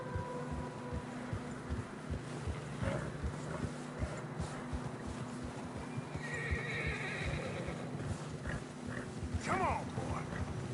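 Horses in the video game Red Dead Redemption 2 snort and whinny over a steady, rhythmic clatter of hooves through fresh snow, with several shrill neighs rising toward the end.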